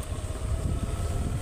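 Strong wind blows through trees that are shedding their leaves, a dense, roaring rush of gusts buffeting close to the microphone, with no one speaking.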